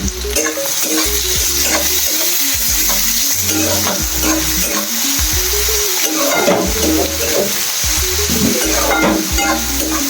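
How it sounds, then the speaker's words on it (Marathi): Finely chopped onions frying in a pan toward golden brown, loud continuous sizzle close up with regular stirring scrapes and clacks of a spoon repeating every second or so. "कांदा छान गोल्डन ब्राऊन होईपर्यंत आपण त्याला फ्राय करून घ्यायचा आहे"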